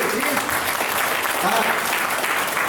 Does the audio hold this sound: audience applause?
yes